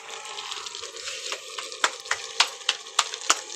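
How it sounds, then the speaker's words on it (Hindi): Food frying in a pan as it is roasted, a steady soft sizzle broken by sharp spatula scrapes and taps that grow more frequent, close up with no talk. "गाइस ये हम यहाँ पे इसको भून लेंगे"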